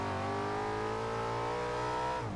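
An Audi RS4 in the racing game Forza Horizon 2 holds a steady, loud engine drone with layered harmonic tones, then the pitch drops near the end as the car brakes into a turn.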